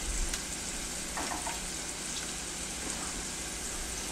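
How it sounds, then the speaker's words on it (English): Oregano frying in hot oil in a pan for a Greek omelet gives a steady, close crackle and sizzle that holds at an even level throughout, with no talking. "Now you can see that's boiling pretty well, or sizzling."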